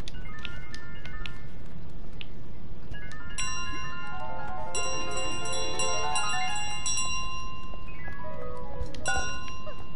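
A bell rung in Untitled Goose Game, with bright chiming tones repeating and overlapping through the middle and again near the end over a steady background bed of game sound.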